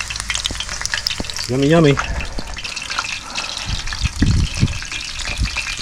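Crab and clams deep frying in a small batch in hot oil, a steady close bubbling sizzle with stirring clatter, while people talk briefly over it.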